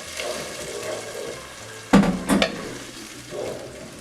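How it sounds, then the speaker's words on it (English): A spoon stirs escarole and bean soup with pepperoni in a pot, giving a soft simmering bubble under two sharp scraping, sloshing strokes in the middle and a fainter stir near the end. "Give it a nice stir."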